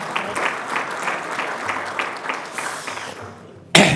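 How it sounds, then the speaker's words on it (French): A conference audience applauds in a hall, a busy patter of clapping with audible individual claps that tapers toward the end before a sudden louder knock. "Vous pouvez les applaudir quand même, non?"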